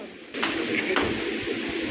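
Soft cooing of pigeons nearby, low throaty murmurs over faint background noise, no speech.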